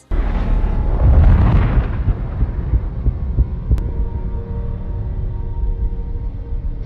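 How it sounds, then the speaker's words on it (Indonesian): Car blowing up in an action film: a loud, low explosion boom that rumbles and swells for a couple of seconds, then fades into a sustained dark roar and hum, with a sharp brief crack partway through. "tiba-tiba mobil itu meledak"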